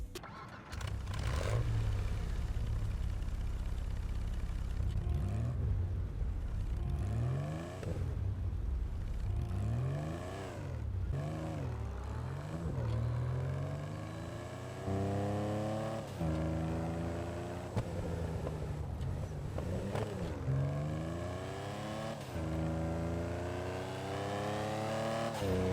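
Sterling GT sports car in GTA Online, its engine revving repeatedly through rising and falling sweeps, with crackling when the throttle lifts, loud and close with no voices.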